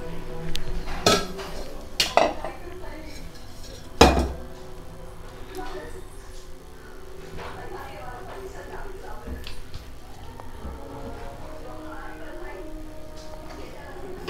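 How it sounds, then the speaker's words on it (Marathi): A metal cooking pot is set down on a home kitchen stove, giving a few sharp clanks and clinks close by, followed by quieter handling and background hum. "सर्वात प्रथम एक पातेलं ठेवत आहे."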